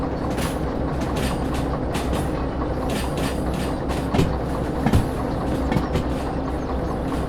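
A train running in the railway simulator game Derail Valley gives a steady, close rumble and rattle throughout, with a few sharper clanks and knocks near the end and no talking.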